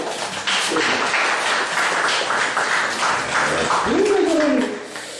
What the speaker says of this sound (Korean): 박수 한번 치지 않겠어요?